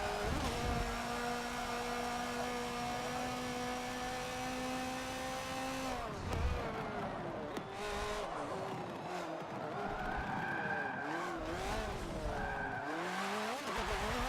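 In a racing video game, a race car's engine screams at high revs, then drops sharply as it downshifts into a chicane, with tires squealing and skidding as the car slides sideways and the engine warbles back up.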